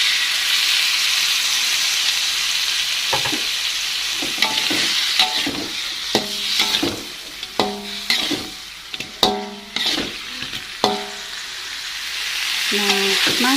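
Tuna balado simmering and sizzling in a pan, a steady frying hiss broken by a series of clattering scrapes and knocks as a utensil stirs against the metal, close and fairly loud.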